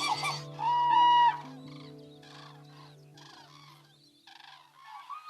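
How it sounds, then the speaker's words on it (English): Loud, trumpeting common crane calls ring out in a short burst, then fainter answering calls follow over a quiet background with low sustained tones. "Cranes also have this eerie, almost prehistoric sound to their calls"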